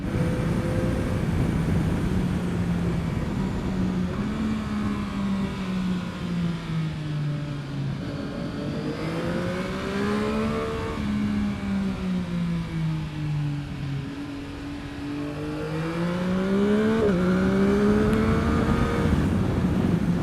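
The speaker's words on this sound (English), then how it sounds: "it did actually miss a gear. I was wanting to go up into fourth gear" A motorcycle engine revs up and down through the gears, its droning pitch climbing and dropping repeatedly, with a missed shift when going up into fourth gear, loud and continuous with no talk.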